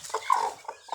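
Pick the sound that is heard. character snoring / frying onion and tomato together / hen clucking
hen clucking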